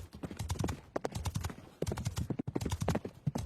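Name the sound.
horse hooves clip-clopping while galloping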